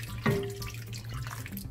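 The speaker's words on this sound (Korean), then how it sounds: "물은 감자가 다 잠기면 안 되고요. 반 정도만 잠길 정도로 넣어주세요." Water streams into a pot over halved potatoes being readied for boiling, a short, close splashing pour with an initial gush that settles into a steady trickle.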